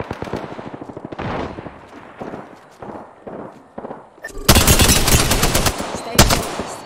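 Rapid gunfire from the Apex Legends video game, Season 7 map: bursts of automatic weapon fire start moderately loud, then a louder, denser barrage of shots rings out close by, with no talk.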